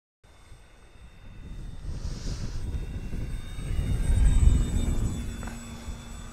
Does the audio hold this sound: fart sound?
no